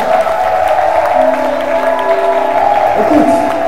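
A church congregation gives a loud, sustained acclamation to Jesus, a steady wash of clapping and crowd cheering over held musical tones, with voices mixed into the din.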